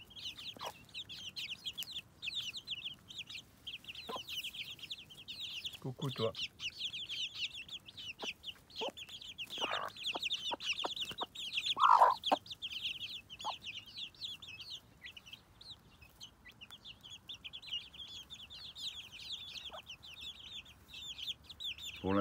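A hen and her free-ranging chicks cluck and peep continuously, the chicks' thin high cheeps forming a steady chorus while the hen's lower clucks punctuate it; a brief voice speaks softly near the start.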